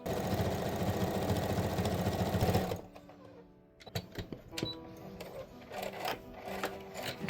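A sewing machine stitches the right sides of fabric together for a baby's pixie hood, running as a steady close mechanical whir for nearly three seconds before stopping, followed by quieter handling clicks and rustles.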